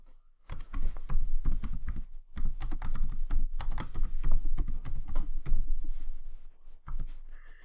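Rapid clicking keystrokes on a computer keyboard, a dense steady patter of close taps broken by a couple of brief pauses.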